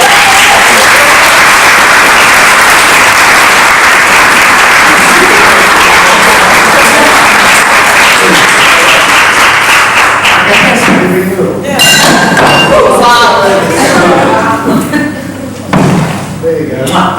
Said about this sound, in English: So massive round of applause.